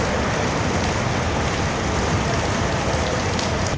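Rainwater pouring and dripping off the roof of an Amrit Bharat Express train coach after heavy rain, a steady dense splashing hiss that fills the whole moment without letting up.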